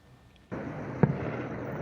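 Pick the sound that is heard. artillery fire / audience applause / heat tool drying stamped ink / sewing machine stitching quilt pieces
artillery fire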